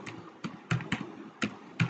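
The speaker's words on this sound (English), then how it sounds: "I'm directly typing my search terms like" Search terms being typed on a computer keyboard, a handful of distinct key clicks at an uneven pace, close and fairly quiet with no talking.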